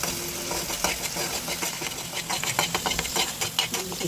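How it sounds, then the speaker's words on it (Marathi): Spice paste and curry leaves sautéing in hot oil for a stuffed okra dish, with a steady close sizzle broken by repeated scraping and stirring clicks from a utensil against the pan. "तेल गरम झाल्यावरती त्यामध्ये थोडीशी कढीपत्त्याची पाने टाकूयात व तयार केलेली पेस्ट तेलामध्ये आपण परतवून घेऊयात."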